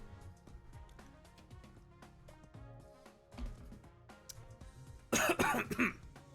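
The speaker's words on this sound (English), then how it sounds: "I still got a cough." A person coughs in a short, loud burst of several harsh coughs near the end, close and prominent over quieter game music and sound effects.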